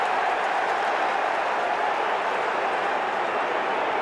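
A large, vocal football crowd of Kangaroos supporters roars steadily at the MCG during a 2004 Round 3 match against Carlton, a dense, continuous wash of cheering and noise with no breaks.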